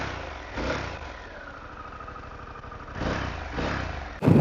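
A Harley-Davidson Pan America 1250 motorcycle engine idles steadily and fairly close, its low pulsing throb swelling slightly twice as the throttle is blipped, with a sharper burst of noise at the very end.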